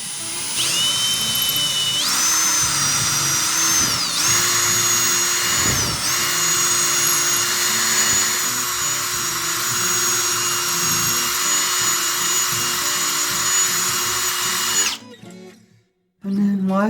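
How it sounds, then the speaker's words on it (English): A power drill bores a pilot hole into a wall stud, a loud, steady high whine lasting about fifteen seconds with brief pitch dips as the bit bites, then cutting off abruptly. "I still have to drill a pilot hole where the stud is"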